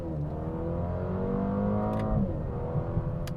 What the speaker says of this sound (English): Starting off with this 4-cylinder engine, there is so much synthesized artificial noise in this vehicle